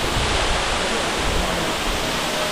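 Katiki waterfall near Araku in Visakhapatnam pours in a steady, dense roar of falling water, loud and unbroken from start to finish with no voices over it.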